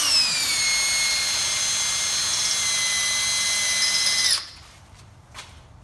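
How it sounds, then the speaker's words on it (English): A power drill bores a hole in a 4L60e shift linkage part for a 1990 Toyota Land Cruiser FJ62 LS swap, a loud, steady high whine running about four seconds before stopping abruptly, followed by faint handling clicks. "I basically drilled enough on the back here to where it would drop the little pin off"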